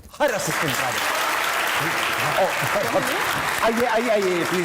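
Studio audience applause welcoming a director and his assistant onto a Pakistani comedy chat show set, a steady dense clapping wash under a host speaking throughout.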